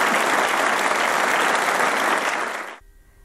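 Warm applause fills the hall at the closing ceremony of the China-France Business Council meeting, thick sustained clapping from a large audience, loud and even, cutting off abruptly near the end.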